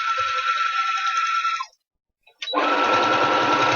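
Sewing machine back-stitching along a hair weft, a loud steady buzzing run that stops briefly, then resumes with a heavier whir.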